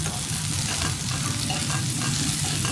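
Cabbage and capsicum stir-fried in a kadhai, a loud, close, continuous sizzle with scraping stirring sounds running throughout and no talk.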